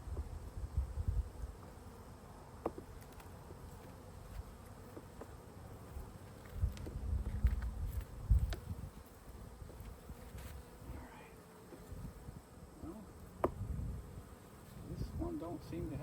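Honey bees buzz around an open hive at the top of the boxes, a soft continuous hum with scattered clicks and knocks from handling frames, heard close but quiet, with occasional wind.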